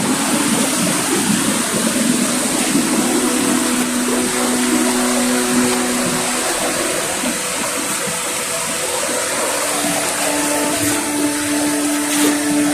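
Water rushes loudly and continuously, a steady broad roar like a fast-flowing stream nearby.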